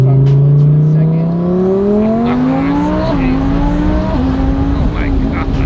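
A twin-turbo Lamborghini Huracan Evo accelerates hard, its engine note climbing loudly through several gear changes. People talk over the roar.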